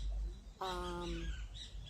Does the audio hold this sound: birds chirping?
yes